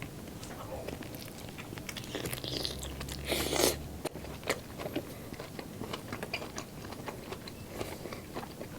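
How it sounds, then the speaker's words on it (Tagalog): Grilled squid from a street-food seafood meal is bitten and chewed close up, with a run of soft crunchy bites and wet chewing sounds repeating irregularly over a faint background. "Mukbang na po tayo. Unahin po natin sa pusit."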